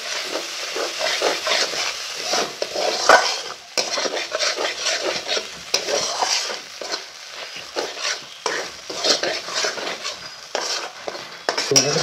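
Potato and pointed gourd with spices, loosened with a splash of water, being stirred in a pan, giving repeated scraping and clinking utensil strokes over a soft sizzle for several seconds.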